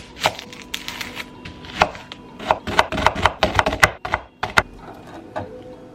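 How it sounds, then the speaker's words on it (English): A knife cuts an onion into thin slices on a cutting board for a Thai beef salad, producing a quick irregular run of close, crisp chops with short pauses, no voices. "And we're not dicing these, we're slicing them."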